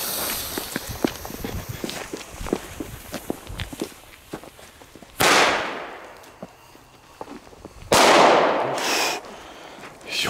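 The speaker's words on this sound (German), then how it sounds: "wir testen jetzt die Doppelknall von Explode Fireworks" Xplode Doppelknall double-bang firecrackers going off outdoors in snow: two loud sharp blasts several seconds apart, each with a long rumbling decay, after a stretch of crunchy footsteps and small scuffs.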